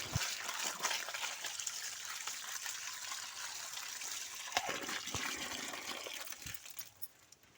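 Water runs and splashes steadily while sundaikai (turkey berry) seeds are rinsed clean, a moderately quiet gushing stream with small sloshes and knocks, and no voices.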